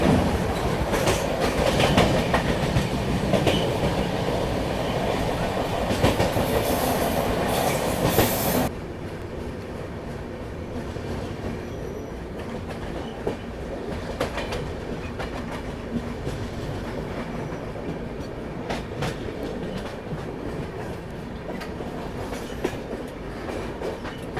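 Aboard the Swatantrata Senani Express accelerating after a track change near Sahibabad, a loud steady rolling roar with rhythmic wheel clatter gives way to a quieter, lighter clacking rumble with occasional sharp rail clicks.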